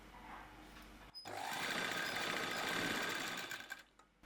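A sewing machine stitches a frill frock, with a brief click before the motor starts and then a steady, close whirring run of about two and a half seconds that slows and stops, with no talking.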